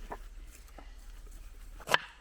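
A Rottweiler gives one short, sharp bark near the end, over a quiet, faint background hum.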